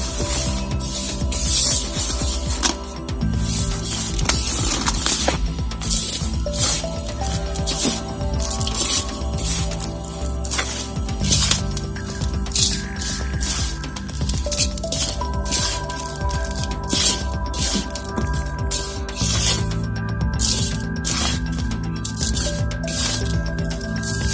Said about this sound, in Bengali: দেখুন মাটিটাকে খুব ভালোভাবে মিশিয়ে দিতে হবে